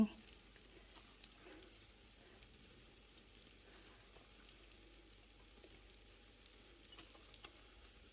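Thai omelette egg frying in a pan, a faint continuous sizzle with occasional small pops and crackles.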